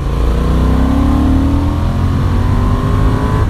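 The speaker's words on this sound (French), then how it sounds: "on sent la bride du moteur qui arrive à mi-régime" Honda Hornet CB 750 motorcycle engine pulling steadily through mid-range revs on a small road, a loud continuous drone with rising harmonic tones as it accelerates, no voices over it.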